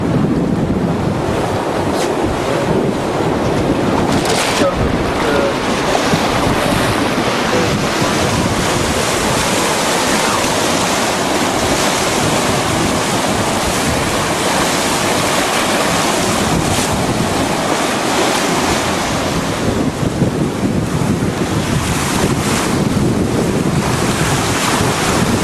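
Aboard a Gemini catamaran running with following seas in about ten knots of wind, steady loud wind roar and rushing, splashing waves fill the whole stretch without let-up, and no one speaks.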